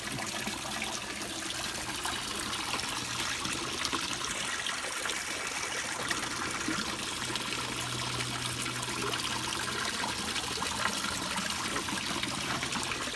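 Water trickles steadily into a homemade planter bio filter, a soft continuous liquid dribble with faint gurgling, heard close and alone without any voices.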